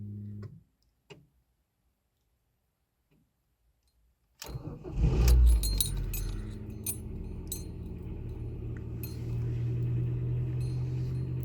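Ford Focus Mk2 ignition: a faint key click and jingle, a pause, then a loud crank and the engine catching, settling into a steady idle that lifts slightly near the end.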